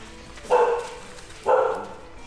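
A dog barks twice, about a second apart, each bark loud and close over a quiet background, heard in a workshop-like setting during a build of a 2020 Isuzu D-Max with lifted suspension.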